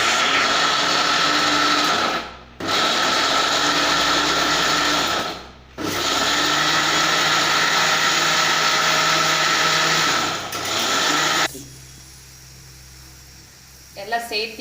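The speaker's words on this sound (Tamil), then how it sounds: "பட்டை, சோம்பு, ஏலக்காய் நல்லா சேர்த்து மிக்சியில் மைய அரைச்சிக்கலாம்." A mixer grinder pulverizes cinnamon, fennel and cardamom with dried red chillies in loud, whirring bursts, stopping briefly twice before cutting off near the end, followed by quiet rattling.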